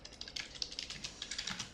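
A code comment being typed on a computer keyboard, a quick run of light, close key clicks tapping in a fairly steady rhythm with no speech.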